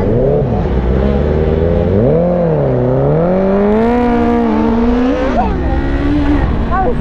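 A Honda Fireblade motorcycle engine revs hard at high RPM while riding, loud and close throughout, its pitch climbing and dipping through several surges with no pause.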